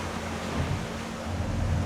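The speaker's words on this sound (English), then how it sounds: "just wait for these waves past us, our own waves" Wake waves wash against the hull of a stopped Boston Whaler 330 Vantage boat on open water, a continuous close splashing and sloshing with wind noise.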